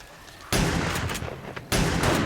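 Two loud gunshots in the 7 Days to Die video game, each an abrupt heavy blast with a rumbling tail, about a second apart, close and without talk.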